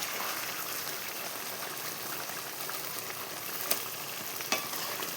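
Chicken gravy cooks down in a pan with the oil separating, making a constant, even sizzling hiss with a couple of small sharp clicks near the end; no speech is present.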